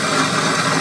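A belt grinder running a coarse Diablo belt grinds against the handle of a knife made from a file, producing a steady, loud, broadband abrasive rasp with no break.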